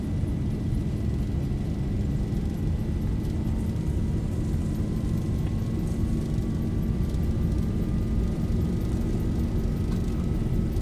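Boeing 737 jet engines at takeoff thrust in a flight simulator game, a dense, steady roar with a thin whine that slowly climbs in pitch, continuous and loud throughout with no talking.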